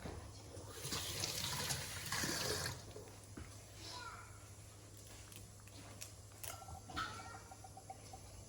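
Curry leaves are rinsed under a running kitchen tap while preparing onion vada, giving a faint burst of splashing water, with crows cawing in the background.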